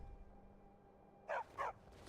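Two short, moderately loud dog barks from Skyrim over a low ambient game hum, the barks coming in quick succession near the end.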